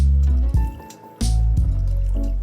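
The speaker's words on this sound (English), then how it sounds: "Let's do a very light pour so it doesn't spill everywhere." Liquid, water or chicken stock, pours into a soup pot in a few short bursts, with gurgling, splashy filling sounds and brief pauses between pours, close and clear.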